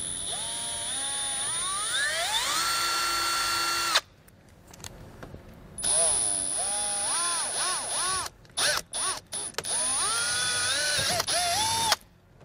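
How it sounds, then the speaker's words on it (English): A power drill bores holes for a brake controller switch in a 2013 Toyota, whining as its pitch rises and settles, in long bursts separated by short stops and brief pauses, loud and close. "Now that we have our hole drilled out"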